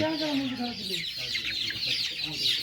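Chickens cluck steadily at close range, a dense overlapping chorus of hens with a few louder calls, while a person talks quietly underneath during pox vaccination of 32-day-old birds.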